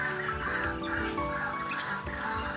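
A bird calls repeatedly in a garden with squirrels around, its steady cries carrying over faint background noise.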